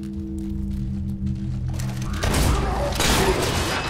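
Gunfire in the video game Fable III, with a sudden loud, dense burst of shots and booming blasts that cut in midway over a low droning background and keep going to the end.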